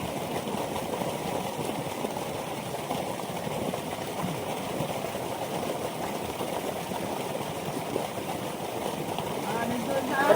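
Fast-flowing river water during a fishing outing in Bohol, a continuous loud rushing wash that stays steady from start to finish, with a voice faintly mixed in.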